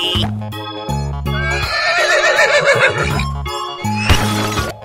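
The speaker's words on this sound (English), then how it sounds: "Horse." Loud, close horse neigh: a long wavering whinny that rises and falls, set among cartoonish toy-like tones and a sharp crash near the end, with no talking.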